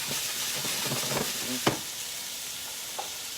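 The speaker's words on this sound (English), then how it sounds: "when you're double frying fries" Oil sizzles and crackles steadily as French fries double-fry in hot oil, with a brief louder pop partway through and a faint clink near the end.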